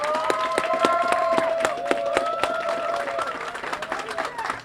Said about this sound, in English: I want us all to join in a round of applause for all the instructors of the Police Force Academy.